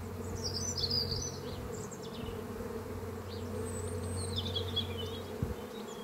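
A steady, close hum of honeybees comes from an open beehive during an inspection, with a few faint chirps of birds high above, and no one speaking.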